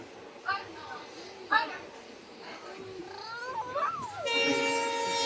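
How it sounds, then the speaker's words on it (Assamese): A train rumbles along through a tea garden with a drawn-out horn blast near the end, while people talk over the steady rolling noise. "মৰিয়নিৰ বাগানৰ মাজে মাজে ট্ৰেইন গৈ আছে"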